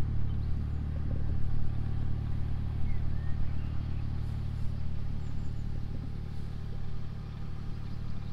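Narrowboat diesel engine running at normal cruising revs on a river: a steady, close, low throbbing hum with a constant mechanical drone and light clatter throughout, with no talk.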